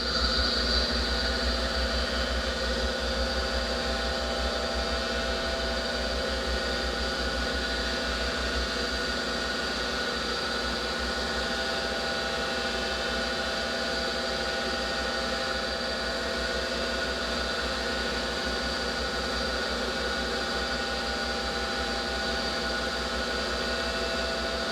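A Bridgeport milling machine runs steadily at low RPM while holes are spaced out on hefty homemade jack stands, giving a continuous loud mechanical hum and whine with no pauses and no voices.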